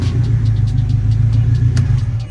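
A turbocharged K20 engine in an EG Civic running steadily at close range, a loud, deep, even rumble with a faint rhythmic pulse and nothing else heard.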